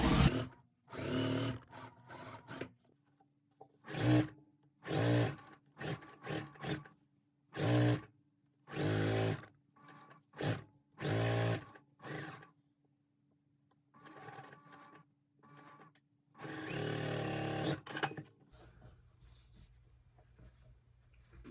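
A sewing machine stitches a big scrappy quilt block in short, loud bursts of rapid needle chatter, about a dozen runs separated by brief pauses and fabric handling, with a longer run near the end.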